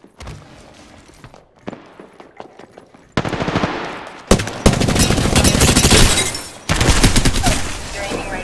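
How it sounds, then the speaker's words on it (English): Enemy gunfire in a video game shooter: sparse single shots at first, then loud sustained bursts of automatic fire in long close volleys with brief gaps. "The enemies are shooting at me."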